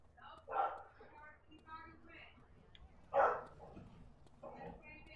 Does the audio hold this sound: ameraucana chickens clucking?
no